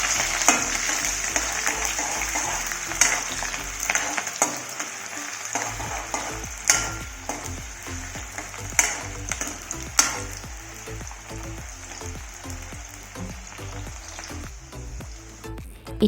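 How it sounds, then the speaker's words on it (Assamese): Onions fry in a pan with dried chillies, a steady sizzle and crackle running throughout, punctuated by sharp clinks of a utensil against the pan, with no voices. "এয়া পিঁয়াজ দি দিছে।"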